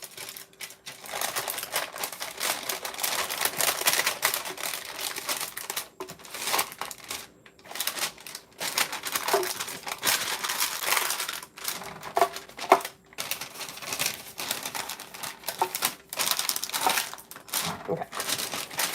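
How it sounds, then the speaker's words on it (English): Paper being creased and crinkled to fit into a roughly 2-inch baking pan gives a close, continuous crackle with sharp little crunches and brief pauses. "And then just trying to kind of crease the paper so it'll stay a little bit better."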